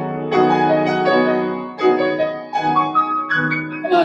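Debussy on piano imitating gamelan: loud, dissonant clashing chords struck close up, a sustained cluster fading before a quicker run of bright, jangling notes.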